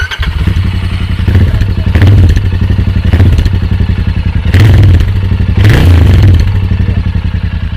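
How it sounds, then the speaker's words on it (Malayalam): A Royal Enfield Interceptor 650, a 650 cc twin motorcycle, runs close by with a deep, steady exhaust note and a few blips of throttle revving, loud and continuous with no talk over it. "ഈ വണ്ടിയുടെ ഒരു എക്സോസ്റ്റ് നോട്ട് എങ്ങനെയാണെന്ന് വെച്ച് കഴിഞ്ഞാൽ അപ്പോൾ സ്റ്റാർട്ട് ചെയ്ത് ഏൽപ്പിച്ച് തരാം"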